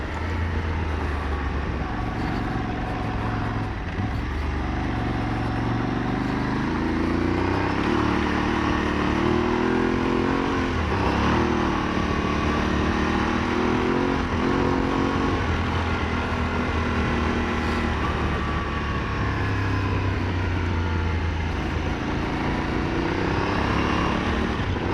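Aprilia Tuareg 660 adventure motorcycle ridden off-road on a gravel road, its engine droning steadily and loud throughout with rising and falling revs and rumbling wind and tire noise.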